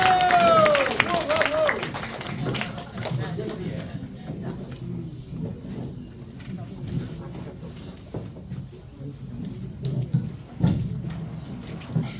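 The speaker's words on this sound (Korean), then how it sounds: "나오실 때 우리 큰 박수 부탁드리겠습니다" An audience at a seminar lecture hall applauds as a speaker walks on stage, a burst of clapping that swells briefly and then settles into scattered claps and crowd murmur, moderately close and sustained.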